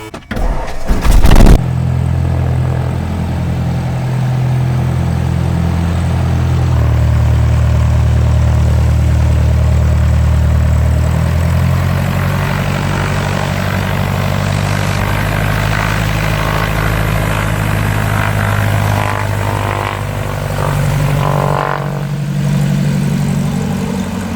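A small propeller airplane engine cranks with a short burst, catches, and settles into a loud, steady rumbling idle that continues throughout.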